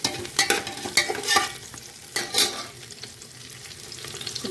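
Green chilies stirred into a hot pan with melted fat and onion for chicken soup, giving a steady sizzle broken by several sharp scraping stir strokes close by.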